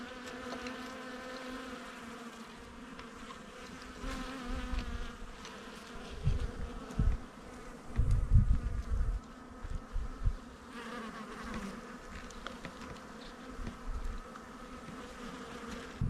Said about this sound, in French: beau soleil, belle activité aussi des abeilles